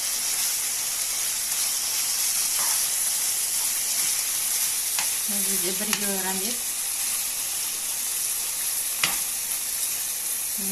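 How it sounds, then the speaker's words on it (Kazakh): About a kilogram of meat fries in a pan with a steady, hissing sizzle and occasional stirring clinks, while someone briefly speaks over it. "Осылай жақсылап тұрып қуырамыз етімізді."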